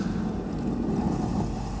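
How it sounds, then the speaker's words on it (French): Sea ice pack heard through contact microphones placed in its cracks, a steady dense rumbling hiss with faint crackles, continuous and fairly quiet. "Donc ça, c'est le son de La Banquise."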